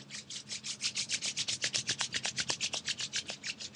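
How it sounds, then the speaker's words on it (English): Palms rub briskly together during a yoga session, producing a fast, even series of close, dry swishing strokes that runs for several seconds without talk. "Rub your palm together"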